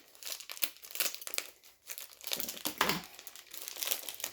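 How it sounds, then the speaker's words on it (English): Scissors snipping through an Amazon package sleeve, heard up close as a run of crinkly plastic crunches and cuts with brief pauses. "And these scissors are not cutting very well."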